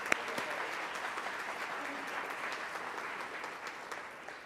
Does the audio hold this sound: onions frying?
no